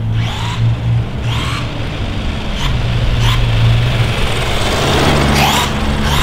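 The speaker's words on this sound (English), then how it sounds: "The car is pretty fast there." An NC Basher RC short course truck with a Castle Sidewinder motor drives fast on a road, its whining motor rising and falling in several quick close passes over a loud continuous roar, with no speech.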